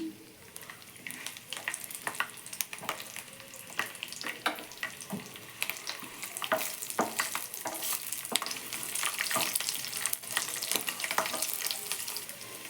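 Green chillies, cumin seeds and garlic sizzle briskly in hot oil, a bright crackling fry broken by frequent spoon stirs and scrapes against the pan throughout.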